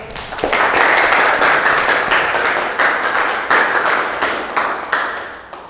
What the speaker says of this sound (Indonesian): Ayo tepuk tangan untuk